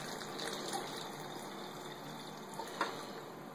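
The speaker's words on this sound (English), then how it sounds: "So we're going to add 2 cups of hot tap water." Hot tap water pouring onto dehydrated hamburger rocks, a steady soft gushing stream that runs throughout at moderate level with no talking.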